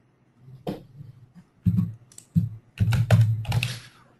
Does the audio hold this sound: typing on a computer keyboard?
yes